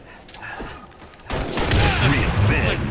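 A grenade explosion and gunfire in a Halo Reach match, quieter early shots giving way to a loud, rumbling blast and continuing fire, with a voice talking underneath.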